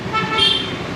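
A loud aftermarket car horn blares in a short tonal burst during testing on a car being modified, with traffic-like background noise.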